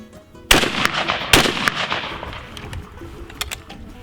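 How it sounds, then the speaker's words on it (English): Shotgun firing a reloaded shell with a hull soaked for a day: two loud, sharp blasts about a second apart, each trailing into a long outdoor echo, with faint bird chirps afterward. "Third shot with the wads, the hulls that were soaked for 1 day."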